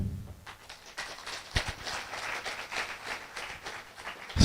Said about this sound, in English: Allow me to applaud for them.